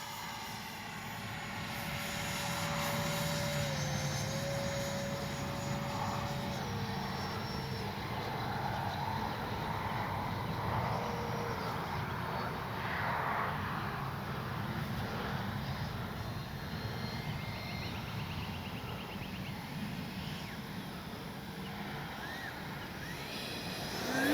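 Freewing 70mm F-35 RC jet making a touch and go, a steady loud electric ducted-fan whine that holds level throughout, with rising and falling tones as it passes near.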